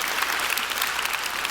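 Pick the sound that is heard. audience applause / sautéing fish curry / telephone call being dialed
audience applause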